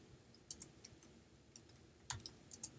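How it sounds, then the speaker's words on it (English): Scattered key clicks from typing on a computer keyboard during a prehistoric-ceramics image search, a few sharp taps in short bursts, faint and close with a quiet room behind them. "let's type in Egypt"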